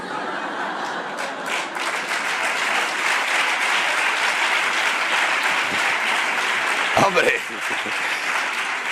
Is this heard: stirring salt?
no